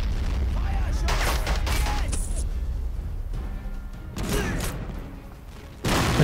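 A grenade launcher fires in the World War II strategy game Men of War: Assault Squad 2, with several sharp booming blasts and scattered gunfire breaking through a rumbling battlefield while a voice talks over the action.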